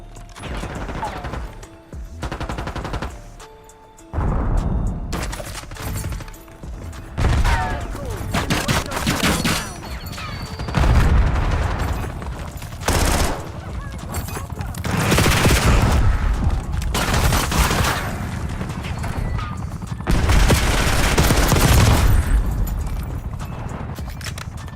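Video game gunfire comes in loud, dense bursts and rapid volleys, with sharp cracks and thumping impacts that start and stop across the stretch, mixed with clattering in-game sound effects.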